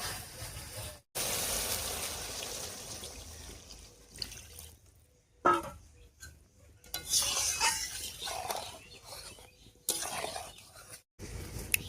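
Water is poured into a spiced koi fish curry with taro stolons in a kitchen pan, heard as fairly quiet splashing and running water broken by short pauses, with occasional clinks of a spoon against the pot.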